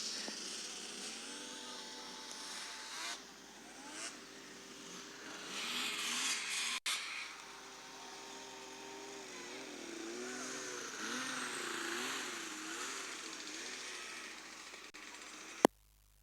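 Racing hovercraft at a championship event, each with a thrust engine of about 200 horsepower plus a separate lift engine, drone and rev steadily and loudly throughout, the engine note rising and falling as craft pass, with a sharp bang near the end.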